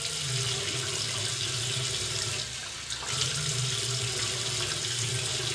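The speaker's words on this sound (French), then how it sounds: "on va se brosser les dents, laver le visage et tout" Water runs steadily from a tap into a sink during face washing and tooth brushing, a continuous close hiss with one brief dip in the flow.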